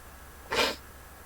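A single short, breathy sneeze, fairly loud against a quiet background hum.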